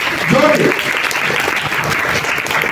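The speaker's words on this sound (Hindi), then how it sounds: "एक बार और जोर से तालियां बजाएं, जोर से।" Audience applause fills a convocation ceremony at a paramedical science institute, a dense, steady wash of clapping throughout, with a brief voice rising over it near the start.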